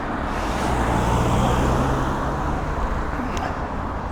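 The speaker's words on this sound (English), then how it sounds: "there's a car coming" A car approaches along a single-track road near St Mary's Church in Old Sompting, England, its steady road rumble and tyre hiss filling the scene from start to finish without talk.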